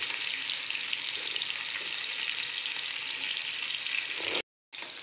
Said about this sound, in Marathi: गोल्डन रंग येईपर्यंत पनीरला आपल्याला फ्राय करून घ्यायचं आहे